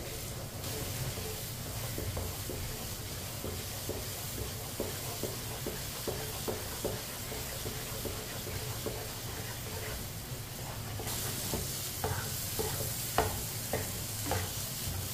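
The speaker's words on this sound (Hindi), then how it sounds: "इसी तरह चम्मच चलाते हुए पकाना है इसे" A spoon stirs granular semolina halwa (suji ka halwa) in a pan as it cooks, giving steady close scraping taps in a loose rhythm over a soft continuous sizzle, with no voices.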